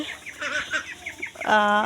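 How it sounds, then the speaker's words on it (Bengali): Native ducklings peep and cheep in a busy cluster, with a louder, rising chorus of high calls toward the end. "হাঁসের বাচ্চা এগুলো দেশি হাঁসের বাচ্চা"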